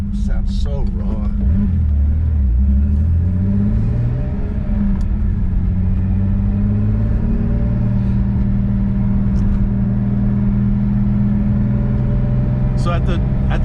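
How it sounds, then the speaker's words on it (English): A 1977 Porsche 911 Turbo engine idles with a raw, aggressive low rumble, steady and loud at close range, its pitch drifting slightly as it settles, with people talking over it. "It's got a pretty aggressive sound to it, too. Even just sitting idle, this thing sounds so raw."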